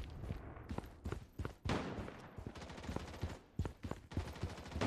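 Rapid gunfire in the video game Project: BloodStrike, with dense, loud bursts and single shots overlapping in irregular rhythm and sharp cracks near and far throughout.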